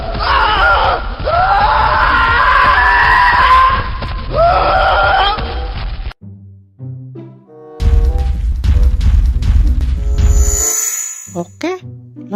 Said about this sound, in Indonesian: sekarang kita coba dengarkan suara teriakannya.